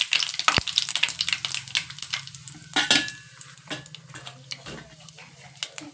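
Cumin, mustard seeds and curry leaves fry in hot oil for a dhaba-style egg masala, giving a crackling sizzle with scattered sharp pops, a clear early crack and some utensil clinks.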